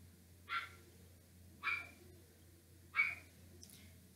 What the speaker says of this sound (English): I know y'all hear that bark.